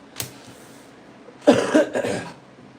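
A single sharp cough, then after a pause a louder burst of two or three close coughs in quick succession.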